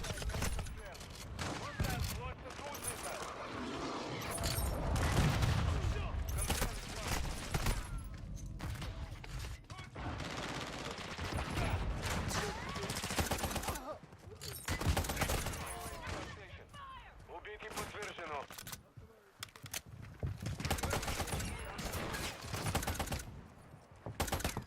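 Gunfire from Modern Warfare 3 crackles in dense bursts of rapid automatic shots, loud and near, with pauses between volleys, while a voice talks over the shooting.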